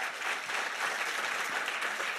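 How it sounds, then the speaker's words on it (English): An audience claps after a woman's Christian conversion testimony, giving a sustained round of applause of moderate loudness with no one speaking over it. "let's give her a round of applause one more time"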